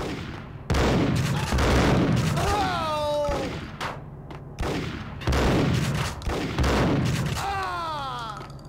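Shotgun blasts in Max Payne, several heavy spaced shots with a pause between them, over game noise and talking voices.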